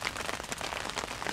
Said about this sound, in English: You can hear the rain now, it's like starting to fall.